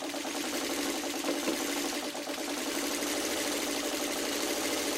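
A sewing machine stitches a long curve on a purse, running in a continuous fast mechanical whir with a fine, even pulse, close and steady with no voices.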